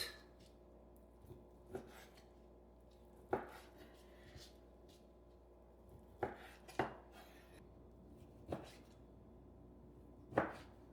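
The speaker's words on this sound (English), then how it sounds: "Let's open it up and cut it into cubes." Raw boneless chuck roast being cut into cubes with a knife on a board, a series of sharp, separate chopping knocks at irregular intervals against a quiet background.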